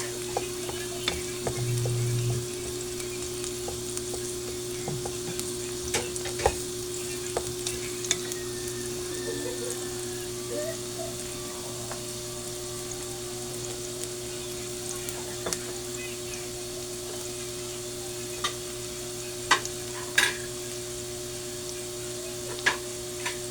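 Sliced garlic browning as it sautés in a pan for corned beef with potatoes, a continuous bright sizzle with occasional small ticks and scrapes, heard up close.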